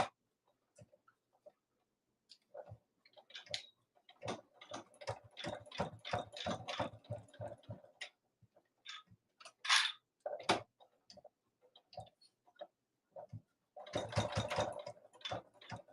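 A sewing machine stitches and backstitches through many layers of fabric on a small lay-flat bag, running in uneven bursts of rapid ticking and whirring with short pauses between, close and clear, no talking.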